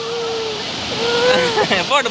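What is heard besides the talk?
floodwater rushing over a bridge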